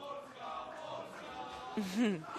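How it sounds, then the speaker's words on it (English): The Poland women's kabaddi team cheers together at a Kabaddi World Cup match, a short burst of shouting voices rising near the end over a commentator talking and background crowd noise. "And we hear that the Poland cheering"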